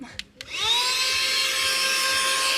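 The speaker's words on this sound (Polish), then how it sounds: "mam tutaj też taki podręczny odkurzacz, zademonstruję." A small handheld vacuum cleaner switches on after a couple of clicks and runs with a steady, high-pitched whine, close and alone.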